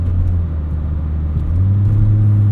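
A mid-1990s Volvo 850 R with a quick-shifting automatic transmission cruises along, its steady engine drone and road rumble heard loud and close from inside the cabin, with a slight rise in pitch toward the end.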